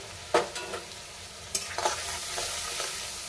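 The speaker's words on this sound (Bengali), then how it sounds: "এবার এটাকে আস্তে আস্তে ভালো করে কষাতে হবে" Silver carp fish curry masala with turmeric and salt is slowly stir-fried in a pan, giving repeated close scraping strokes of a spatula over a continuous sizzle, with no one speaking.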